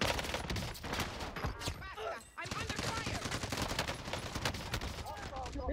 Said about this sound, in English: Wait, they were shooting me.